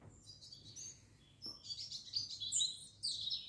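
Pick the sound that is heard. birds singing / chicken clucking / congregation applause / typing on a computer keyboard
birds singing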